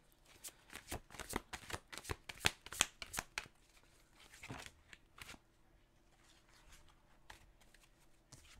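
Oracle cards shuffled for a tarot reading, a rapid run of crisp riffling flicks and slaps close by that thins out into a few sparse taps, with no talking over it.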